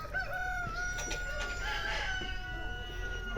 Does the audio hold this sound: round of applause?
no